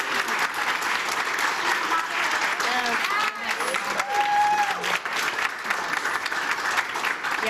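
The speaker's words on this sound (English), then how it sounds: "If you guys can give them a round of applause" An audience applauds festival panelists at the Vital Voices Festival, with sustained, dense clapping from a sizable crowd throughout and some voices and cheers mixed in.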